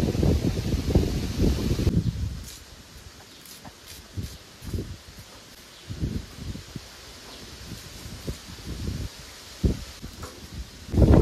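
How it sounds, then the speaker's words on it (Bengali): Gusty wind rushes in uneven bursts, loud at first then dropping to intermittent blasts against the microphone, with rustling in between. "আজকে যে হাওয়া দিয়েছে পুরো ঝড়ের মতো"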